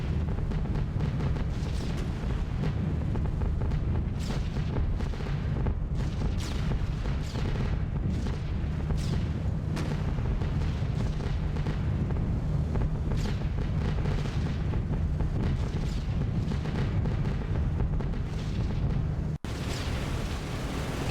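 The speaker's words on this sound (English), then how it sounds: "Just a little bit of flak to fly over Cherbourg" Flak bursts in the B-17 The Mighty 8th flight game over Cherbourg: a steady run of dull booms and crackling explosions under a continuous loud engine drone, with no talk.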